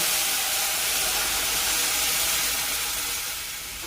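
Boiled milk poured into a sheer khurma mixture makes a continuous loud hissing, rushing pour that fades slightly near the end, with no voices.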